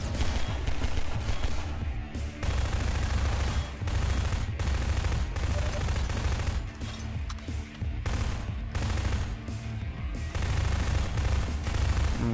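Sustained gunfire in the video game Prospekt, rapid bursts of shots and fusillades packed densely over a loud rumbling bed, nearly continuous with brief gaps and no talk.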